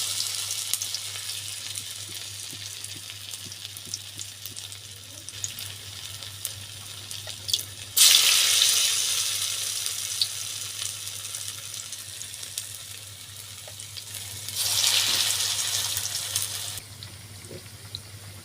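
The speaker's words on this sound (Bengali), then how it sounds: "এখন তেলের ভিতরে দিয়ে ভাজা আপনাদেরকে দেখাবো" Potato jhuri balls frying in hot oil, a steady close sizzle with two louder bursts of hissing as more pieces go in, no voices.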